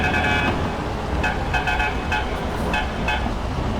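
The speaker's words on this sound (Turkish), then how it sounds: "Bu arada korna çok ilginç değil mi arkadaşlar?" A Ural mixer truck horn in Euro Truck Simulator 2, sounding a melodic series of short toots in a tune-like pattern over a steady engine and road rumble.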